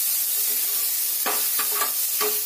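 Hot oil sizzles steadily around chopped garlic, onion and cumin seeds in a pan, with a few louder crackling bursts close up and no talking.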